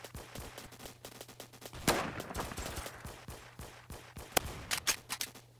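Rapid bursts of gunfire in a Roblox shooter game, sharp cracks and quick volleys coming one after another, some near and loud, others lighter, with no talk over them.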